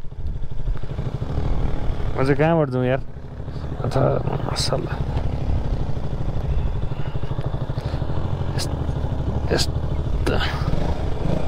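A KTM Duke 200 motorcycle engine labours uphill on a mountain road toward Manang, a steady close drone running throughout while someone talks over it.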